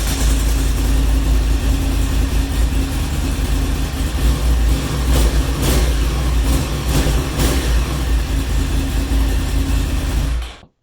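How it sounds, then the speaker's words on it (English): Yamaha R1 motorcycle with stock exhaust cans running close by, a loud, steady low engine drone with a few brief revs in the middle before it cuts off sharply at the end. "As you can hear, the bike sounds alright. It's still loud, but doesn't have that R1 personality to it."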